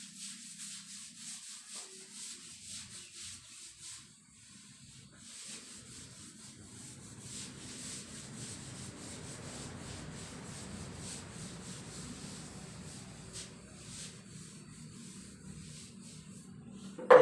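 Chalk is brushed and rubbed off a classroom board, a faint repeated scrubbing that builds into a longer steady rub, with a sharp knock at the very end.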